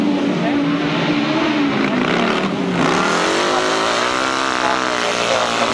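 Grasstrack sidecar outfits racing at a 1992 spring classic meeting, engines roaring loud and continuous with revving pitch changes, heard under a commentator's voice throughout.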